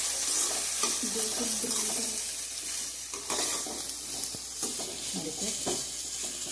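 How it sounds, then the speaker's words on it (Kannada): Onion frying in a pan for egg bhurji makes a continuous bright sizzle, with nearby stirring, scraping and occasional utensil clinks mixed in. "ನೋಡಿ, ಈರುಳ್ಳಿ ಫ್ರೈ ಆಗ್ತಾಯಿದೆ"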